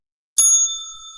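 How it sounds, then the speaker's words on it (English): A single sharp strike of a broken bell, bright and close, with a clean metallic ring that hangs on and slowly fades after the hit. "Got a broke bell."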